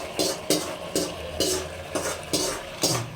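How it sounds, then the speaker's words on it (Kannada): A mixture frying with curd (yogurt) is stirred in a pan, producing about seven regular scraping strokes over a soft sizzle. "ಮೊಸರು ಹಾಕ್ಬಿಟ್ಟು ನಾವು ಮತ್ತೆ ಅದನ್ನ ಫ್ರೈ ಮಾಡ್ತಿದ್ದೀವಿ ಫ್ರೆಂಡ್ಸ್"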